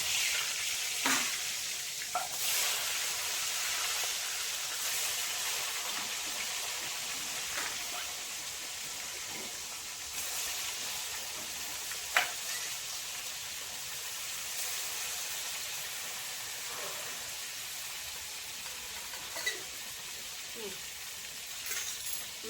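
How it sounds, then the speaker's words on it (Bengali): Rohu fish fries in hot oil, a steady hissing sizzle with scattered pops and spatters, close but fairly soft, continuing evenly throughout. "তেল গরম হয়ে গেছে, এবার আমি মাছ ভাজার জন্য দিয়ে দেবো।"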